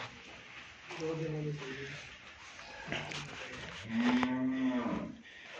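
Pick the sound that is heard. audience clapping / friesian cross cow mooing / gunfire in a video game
friesian cross cow mooing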